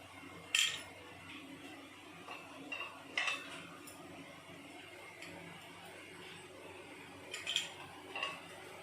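A karahi pan set down on a gas stove in a home kitchen, a few sharp metallic clinks and clatters spaced apart over quiet background hiss, no talking.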